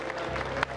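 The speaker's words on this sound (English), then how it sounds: "So give a big round of applause to our winner, Betsy!" Audience applause at an improv comedy show, a brief steady burst of crowd clapping filling the whole short moment at moderate loudness.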